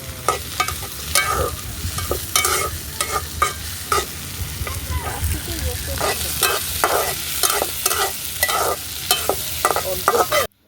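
Onion and chili frying in a pan, with a loud, continuous sizzle close by and regular scraping strokes of a stirring spoon throughout, nothing else heard.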